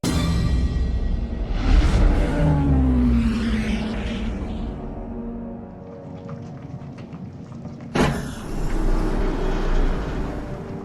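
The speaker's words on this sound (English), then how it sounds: "the unmistakable sound of a ship's engines cuts through the air" Palpatine's Star Wars shuttle descends onto a landing platform with deep, rumbling engine roars and sweeping whooshes, the drone settling before a sudden loud burst of engine thrust near the end.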